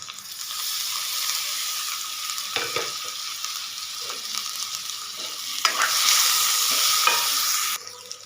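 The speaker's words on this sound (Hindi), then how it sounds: "अब मैं इसमें डालूंगी लहसुन अदरक का पेस्ट, और इसके बाद इसमें मैं ऐड करूंगी टमाटर और सब्ज़ मिर्च।" Ginger garlic paste, tomatoes and green chillies fry in a pan for chana masala, giving a steady close sizzle with occasional stirring scrapes and spoon knocks.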